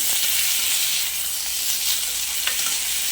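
Steady, bright sizzling of chopped tomato sautéing in a hot pan, with faint stirring, continuous and close.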